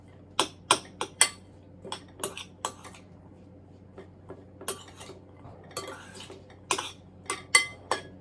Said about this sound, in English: I'm going to stir this together.